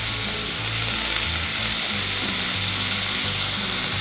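Radish leaves sizzle and fry in a kadhai as they are stirred, a steady close hiss with faint scraping, and a low droning hum runs underneath throughout.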